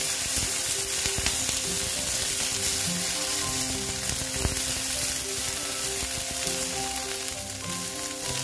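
Salted okra sizzles and fries steadily in a hot pan, a dense continuous crackle with occasional stirring clatter, close and fairly loud, no voices.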